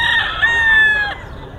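A rooster at a chicken market in Bulacan gives one loud, close crow, a drawn-out strained call that fades into faint background noise.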